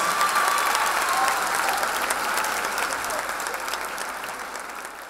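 A large crowd at a gathering of community education leaders applauds the state governor, loud continuous clapping from many hands that begins at full strength and slowly tapers off.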